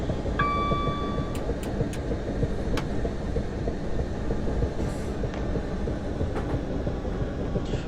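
A Class 378 electric train running on the South London to Brighton route in Train Simulator gives a steady, loud rolling rumble, with a short electronic tone near the start and a few sharp clicks over it.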